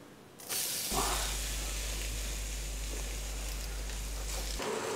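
Chopped onion drops into hot olive oil in a pan and sizzles with a steady, loud hiss that holds for several seconds over a low hum.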